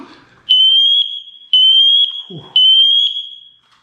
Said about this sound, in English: Most smoke alarms have a little button in the middle.